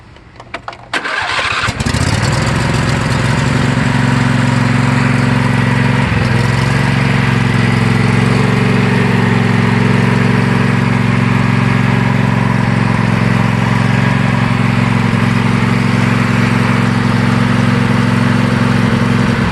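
A John Deere L111 lawn tractor engine cranks briefly, catches and settles into a loud, steady running drone that continues unbroken for many seconds, close and without talk.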